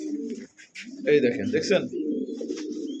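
A pair of fancy pigeons coo with soft throaty calls, close by and repeated, while someone talks over and between them.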